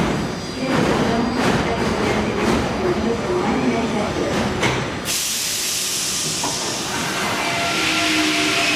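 Recent-model Paris metro train rushing past with a loud roar, hiss and clatter for about five seconds, then a softer hissing rumble as it moves off.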